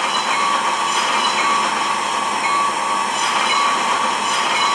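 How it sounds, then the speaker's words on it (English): A train rumbles steadily and loudly throughout, a constant rolling clatter of wheels on track with no voices. "Here it comes."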